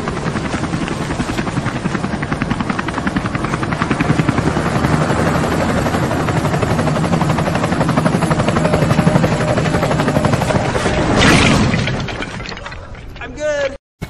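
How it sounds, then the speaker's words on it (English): A loud helicopter rotor thuds steadily and continuously close by, with a short burst of other noise near the end as it cuts off. "I built this helicopter to get me there"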